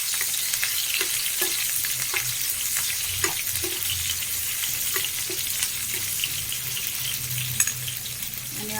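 Onion and green chili sautéing in a pan for Maharashtrian Bhogi bhaji, with a steady close sizzle, a spoon scraping and stirring at a regular beat, and no voices.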